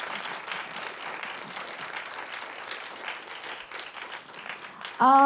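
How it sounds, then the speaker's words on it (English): Audience applause after a film screening Q&A at the 18th Tasveer Film Fest, steady dense clapping filling the room for about five seconds before a sudden loud tone-like burst cuts in at the end. "So huge round of applause."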